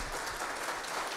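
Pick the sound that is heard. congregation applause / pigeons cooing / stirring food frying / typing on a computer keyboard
congregation applause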